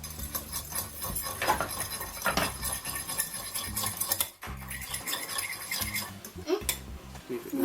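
A fork whisks egg into fish cake mixture in a bowl during home baking, giving quick, uneven clinks and scrapes of metal against the dish that come in bursts with brief pauses, fairly quiet and close.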